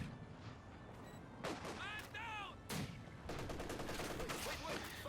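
Machine gun bursts and mortar impacts crackle in a Company of Heroes 2 battle, with scattered booms and rattling fire mixed under a commentator's talk and whistling effects.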